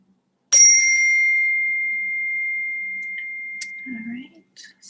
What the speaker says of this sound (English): So that was the bell.